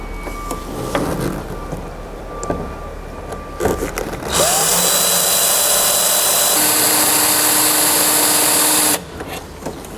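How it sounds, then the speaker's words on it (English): A power drill runs during a window installation, starting after some handling knocks and whirring loudly and steadily for about five seconds before stopping, with its pitch settling midway. "So we are ready to drill."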